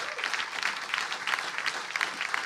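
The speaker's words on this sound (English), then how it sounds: "Can I have a big round of applause for the lovely Damon on sound?" Audience applause at a live folk concert, a steady wash of dense clapping from a crowd filling the room, sustained and fairly close throughout with no voices standing out.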